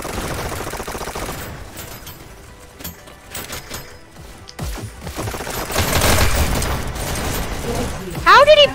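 Rapid automatic fire from an SMG and a pair of alternating guns in the futuristic VR tournament shooter Hyperdash, bursts crackling steadily throughout under a dense game mix with loud booms and a rising whine near the end.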